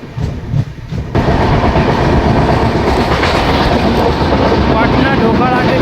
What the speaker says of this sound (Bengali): পাটনা ঢোকার আগে ট্রেন সোন নদী পার করছে